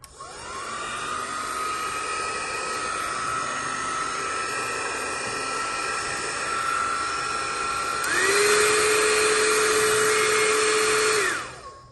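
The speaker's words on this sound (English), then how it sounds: "let's try Prive International's iTeraCare Classic Hot Air Blower." A Prive International iTeraCare Classic hot air blower runs with a steady whirring airflow and a high whine, then shifts up to a louder, higher setting before cutting off near the end.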